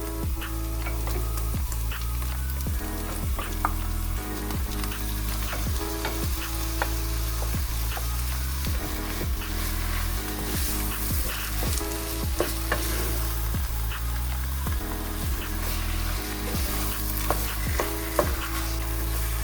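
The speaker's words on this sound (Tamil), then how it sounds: "இப்போ இறைச்சி அரைச்சி வச்சதை போட்டுடலாம்." Minced turkey meat for an Italian ragù sauce sizzles steadily in a pan while it is stirred, with a constant frying hiss and occasional soft scraping clicks throughout.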